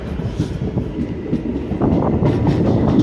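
A train led by its engine rolls past along a curve by broad reservoir backwaters, a steady, loud rumble and rattle of wheels close at hand with no pause.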